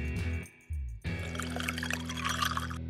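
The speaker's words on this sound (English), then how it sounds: "And pour water into the empty bottle." Water is poured into an empty charcoal lighter fluid bottle, a close, steady gurgling pour that briefly breaks off and then resumes as a continuous filling splash, with no talking.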